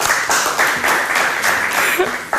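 A studio audience on a cooking show bursts into steady applause, dense clapping that swells in waves and holds close and loud for a couple of seconds.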